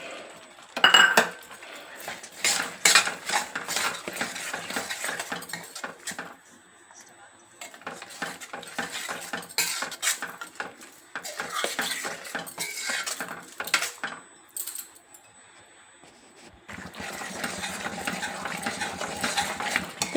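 Tomato pickle cooking in a pan is stirred with a utensil, giving repeated scraping and clinking against the metal in irregular bursts with short pauses, close and fairly loud.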